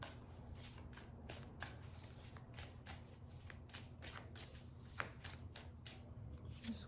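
Tarot cards from a deck being drawn and shuffled, a steady run of soft papery flicks and riffles with one sharper snap near the end, close and quiet, no talking.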